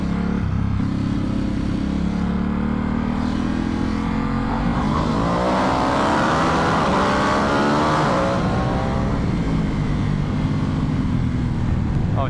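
A Vyrus motorcycle engine revs hard and accelerates while it is ridden, building from a loud, rough drone into a rising, throaty pull. Wind roar is heard close up the whole time.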